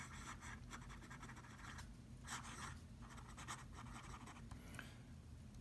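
A fountain pen with a soft, fine 23-karat palladium nib scratches across paper in steady strokes and swirls, a close, continuous dry scratching with short bursts of faster movement.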